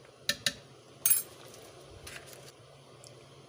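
A spoon clinks sharply against a bowl while apple cake batter is being mixed, with two quick taps, a brighter scrape, then softer clinks against a quiet background.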